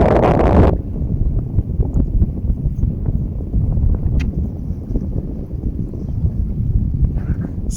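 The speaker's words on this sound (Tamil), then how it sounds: "காற்று அந்த தண்ணி சவுண்டு செம்மையாக இருக்கும்" Wind gusts and lapping water at Tai Mo Tak beach, a steady, rough broadband rush with buffeting on the microphone, fairly loud and continuous, with a brief sharper burst at the start.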